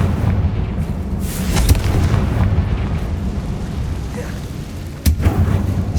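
Confringo blast curse exploding in the Hogwarts Legacy video game, heard as a loud booming burst near the start and another sharp explosive hit around five seconds, over a dense rumbling background.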